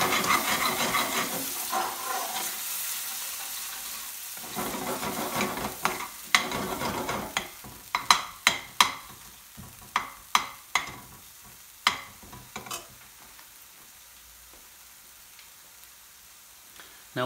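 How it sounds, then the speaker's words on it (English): Spices cooking and being stirred in a pan for a garlic chilli chicken sabzi, a BIR-style curry. A soft sizzle runs throughout, and from about halfway a series of sharp, irregular clicks and scrapes from the spoon against the pan stands out alone. "Now we're just going to cook the spice for a couple of minutes."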